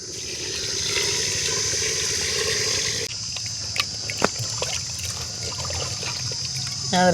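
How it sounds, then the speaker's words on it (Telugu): Water pours and trickles into a clay pot nearby in a steady stream, with a few small knocks and splashes toward the end. "ఇప్పుడు కొలత ప్రకారం నీళ్ళైతే పోసుకుందాం"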